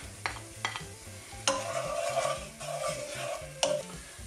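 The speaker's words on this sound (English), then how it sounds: "Give that a brief stir, then in with the mushrooms" Celery stirred in a pan of oil and butter for chicken and mushroom soup, with a steady sizzle and a few sharp scrapes of the spoon against the pan, close and moderately loud.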